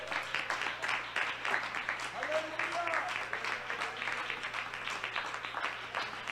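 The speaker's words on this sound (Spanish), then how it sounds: "Dele fuerte el aplauso al Señor." A church congregation claps together during a sermon, a steady wash of applause held at moderate level throughout, with a faint tonal voice or cheer rising briefly in the middle.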